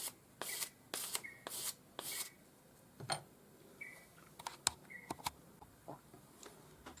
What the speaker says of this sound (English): take your time, sand it until you have a nice satin finish over the whole ring